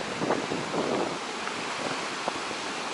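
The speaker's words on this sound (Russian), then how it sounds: "вот такой ветер реально, что даже руки мерзнут" Strong, cold seaside wind at Svetlogorsk buffets the microphone in a continuous roar with gusty surges, with no voices.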